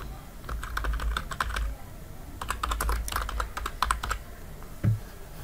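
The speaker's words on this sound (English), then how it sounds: "So I will just drag the text tool and I'll type" Keys clatter on a computer keyboard in quick bursts of close, crisp typing, separated by short pauses, with a single louder thump near the end.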